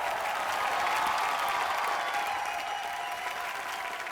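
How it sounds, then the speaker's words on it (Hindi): Applause rolls through a studio audience at a televised birthday entertainment show, a full, even wash of clapping at moderate level that swells slightly and then eases toward the end. "जोरदार तालियां सर लाइए।"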